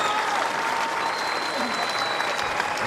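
A tennis crowd applauds after the record-long Isner–Mahut match, a dense, continuous wash of clapping that holds steady throughout, with a commentator's voice running over it.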